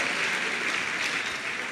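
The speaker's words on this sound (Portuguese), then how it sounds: "Se você pode, aplauda esse Deus" Applause from a church congregation at an evangelical Quadrangular service in Itapetininga, Brazil, a steady, dense wash of clapping that holds at an even level throughout the short stretch, with no voices standing out.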